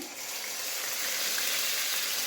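Tomato and onion paste hitting hot oil for a chana pulao, a loud, dense, continuous sizzle close up that builds slightly and holds steady.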